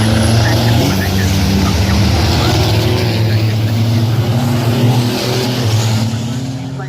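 Racing trucks roar past on the Brands Hatch circuit during the British Truck Racing Championship final, climbing toward the braking area for Druids. The engines make a loud, continuous drone that fades slightly near the end, with commentary heard faintly underneath.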